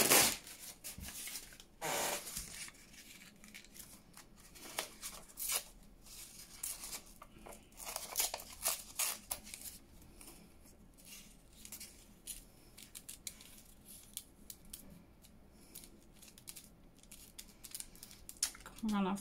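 Scissors snip through straw paper and a mushroom mat, then the paper is torn by hand for junk journal embellishments, with crisp cuts, rips and rustling bursts near the mic under intermittent talk.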